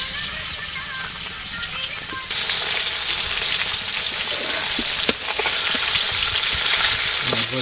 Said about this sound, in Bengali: আজকে লাউ দিয়ে মাছ দিয়ে রান্না হবে